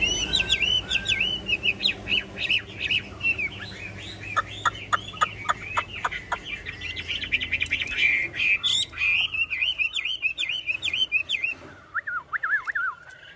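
A Chinese hwamei songbird, a tame caged bird with a spread tail, sings a long, loud, varied run of rich whistles, trills and rapid repeated notes close by, continuing almost without pause.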